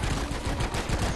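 Rapid gunfire in the video game Deep Rock Galactic, a dense continuous burst of loud automatic shots filling the short moment with no talk.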